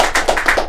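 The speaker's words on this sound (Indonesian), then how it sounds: "tepuk tangan dong untuk Pak Niza" Quick burst of clapping for Pak Niza, principal of SMK PGRI 1 Kedondong, during a podcast: a few sharp, evenly spaced claps, fairly close and loud, with no talk over them.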